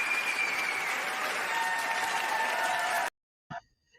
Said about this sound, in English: I wanted to give him a round of applause